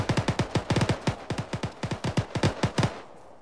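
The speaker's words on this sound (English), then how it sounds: "AK fire close southeast" An AK rifle fires in rapid bursts in the video game Arma, played with ShackTac: loud, close, sharp cracks in uneven clusters for about three seconds, then a short fading tail.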